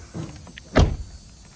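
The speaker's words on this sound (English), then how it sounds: "Door sounds good." Car door of a towed Honda being worked: a faint shuffle, then one loud, solid thump as the door shuts, fading quickly in a quiet setting without speech.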